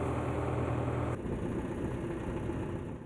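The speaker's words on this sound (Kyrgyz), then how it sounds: "трактор айдап бараткан кишиге трактор жеңил жүрүп" A tractor engine drones as it ploughs a field, a steady low rumbling hum at moderate distance that changes tone slightly partway through, with no voices.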